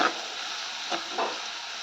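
Onion frying in a pan for a leftover roti dish, a steady close sizzle with two soft stirring scrapes partway through, no voices.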